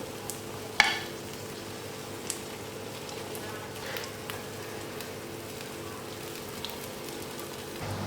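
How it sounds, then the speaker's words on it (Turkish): Eggs topped with kasar cheese frying in a pan give off a soft, steady sizzle with faint crackles, and a sharp utensil clink comes near the start. "Kaşar üzerinde eriyene kadar çok fazla değil pişirip alıyorum"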